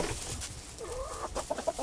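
Chantecler chickens, a cold-hardy breed, cluck and chatter close by in a busy, overlapping stream of short calls, with a few sharper squawks rising near the end.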